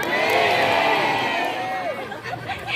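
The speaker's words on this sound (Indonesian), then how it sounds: "Tepuk tangan dulu dong buat Pak Saim." A loud crowd cheering and whooping together, a dense roar of voices that swells and then gradually tapers off.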